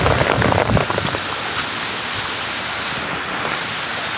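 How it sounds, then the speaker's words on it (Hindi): Heavy village downpour, a loud steady hiss of rain striking surfaces close by, with a few heavier drop patters early and no talking. "बहुत ज़्यादा हमारे गांव में बारिश हो रही है"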